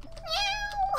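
A cat in the video game LISA gives a single drawn-out meow, close and clear, rising and falling with a short chirpy ending.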